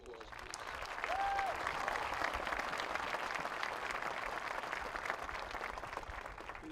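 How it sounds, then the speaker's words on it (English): Sustained applause from a large crowd at a high school graduation ceremony honoring the class of 2025 seniors, dense and steady throughout with a brief whistle early on. "Could we give them a round of applause, please?"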